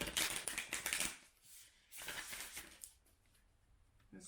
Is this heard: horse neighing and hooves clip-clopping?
no